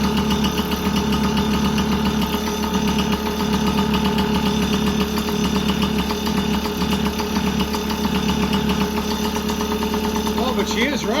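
A Yamaha PW50 motorcycle engine runs continuously after a no-start and carb clean, its loud, buzzy two-stroke drone holding near and steady, with a person talking over it.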